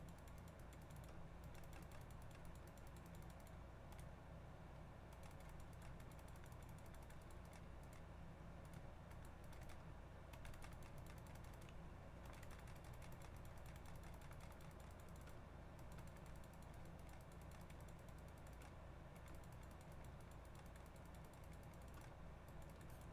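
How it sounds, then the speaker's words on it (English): Rapid, aggressive computer mouse clicking, heard as a dense, steady stream of faint, quick clicks throughout, alone with no talk. "Y'all are hearing some super aggressive mouse clicking."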